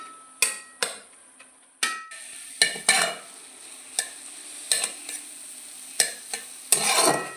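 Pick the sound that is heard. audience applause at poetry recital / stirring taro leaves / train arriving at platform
stirring taro leaves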